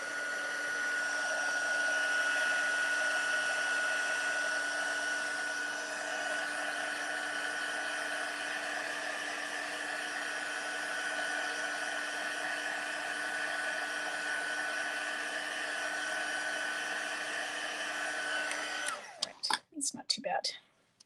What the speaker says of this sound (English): we're going to heat this. And just see if we can kind of dry it off a little bit